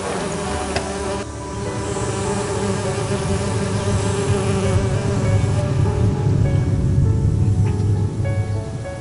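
Loud, dense buzzing of a swarm of bees in the video game Agatha Christie: And Then There Were None, steady and continuous, filling the whole stretch without any talking.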